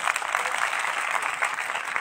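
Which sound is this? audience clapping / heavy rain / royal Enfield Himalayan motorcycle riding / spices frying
audience clapping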